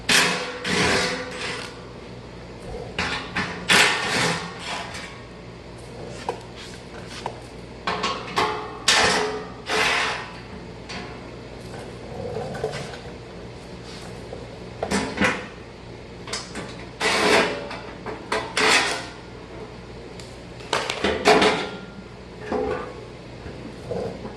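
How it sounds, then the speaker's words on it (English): Twelve-millimetre bolts come off a steel skid plate under a 2016-2018 Toyota Tacoma TRD, with irregular metallic clanks, ratchet clicks and knocks in bursts, fairly close with no talking. "There's 6 bolts that hold it on, and they are 12 millimeters, 3 on each side. I'm going to go ahead and pop those guys off."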